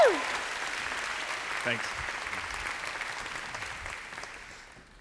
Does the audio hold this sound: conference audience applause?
yes